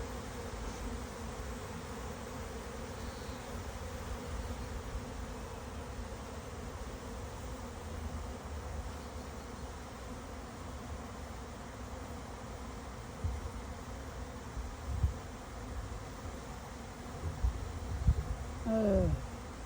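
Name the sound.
bees buzzing around a camera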